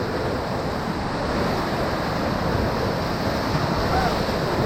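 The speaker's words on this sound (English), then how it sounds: "And that cool, refreshing splash was Witch's Hole." Whitewater crashing over rafters in the Witch's Hole rapid on the Ocoee River: a continuous loud, close roar of churning water with wind buffeting the microphone, no voices.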